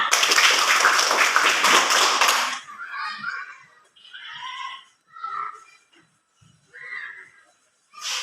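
Children in a classroom clap their hands in a loud, dense burst for about two seconds. After that come quieter stretches with a few voices talking or calling out in between.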